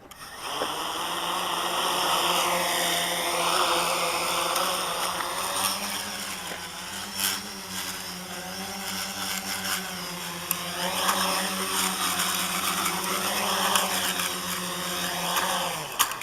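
Steady high-pitched whine of a quadcopter's small brushless electric motors and spinning propellers, loud and close, with a droning hum that wavers slightly in pitch throughout.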